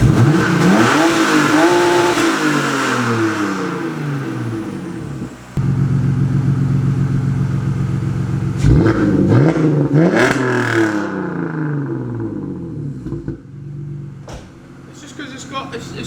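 A wrecked drift car's engine, fitted with a new ECU, revs repeatedly in sharp rising bursts and settles to idle between them, loud and close, with a hissing exhaust audible at times.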